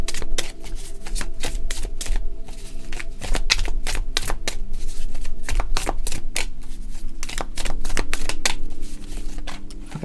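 Tarot cards are shuffled in continuous rapid riffles, a dense crisp flutter of card edges repeating steadily up close, with no speech.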